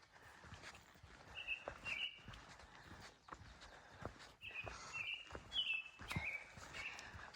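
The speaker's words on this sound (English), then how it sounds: "This is a bird that's been going." Songbird phrases ring out on the Appalachian Trail, faint, short repeated chirping bursts over footsteps and trail noise.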